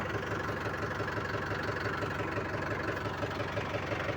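A tractor engine idles steadily at low volume, its even, chugging rumble continuous from start to end with no talking.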